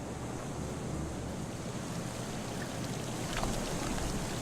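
Water washes as waves in the horror video game Kholat, near a lighthouse: a continuous, even roar of surf mixed with wind, moderate in level and without pauses.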